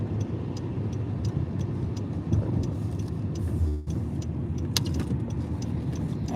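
A car rolls slowly into a Walmart parking lot, its steady low engine and tire rumble continuous throughout, with a brief dip and a few faint clicks and ticks partway through.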